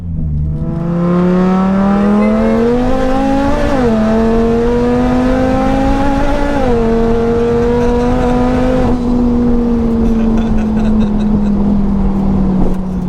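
A 1200 hp Audi TT RS pulls hard at very high speed, heard from inside the cabin: a loud, continuous engine roar climbing in pitch through long gear pulls, with brief dips at each upshift and a steadier drone near the end.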